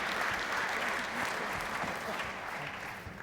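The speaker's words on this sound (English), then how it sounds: "Frank and Niels, please join us in a quick round of applause for Claire, Ignacy, and Adam, please." Conference attendees at a user exchange day clap steadily in a quick round of applause, dense and moderately quiet, fading slightly toward the end.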